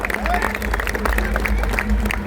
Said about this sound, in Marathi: टाळ्या करा टाळ्या सगळ्या परत सगळ्यांनी एकदा